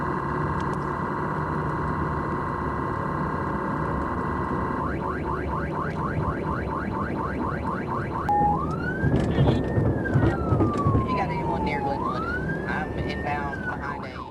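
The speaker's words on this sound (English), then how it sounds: "keeping his distance while the siren and lights were activated" A police car siren blares nearby during a pursuit, first a steady tone, then a rapid yelp, then a slow wailing rise and fall, over a constant engine rumble.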